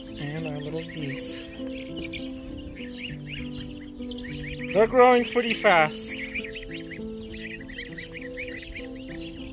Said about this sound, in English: And our little geese.